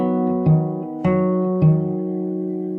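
Fingerstyle acoustic guitar picks a chord sequence from a song, with three plucked bass-string accents over sustained ringing chords, close and unaccompanied.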